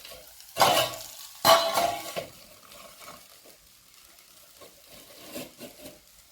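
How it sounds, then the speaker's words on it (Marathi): A lid set down on a pan of frying potatoes: two loud metallic knocks near the start, then a muffled low sizzle that continues quietly under the cover, close by and with no talk. "याच्यावर आपण झाकण ठेवणार आहोत हे आपण झाकण ठेवत आहोत"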